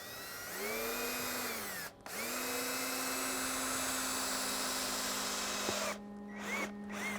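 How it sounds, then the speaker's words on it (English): A stepper drill bit bores through a Jeep Wrangler tailgate MOLLE panel: a steady, loud power-drill whine with pitch rising as the motor spins up, broken by two short pauses and a couple of brief stops near the end. "you're basically just gonna line it up down the middle of this thing and you're gonna go ahead and drill it through"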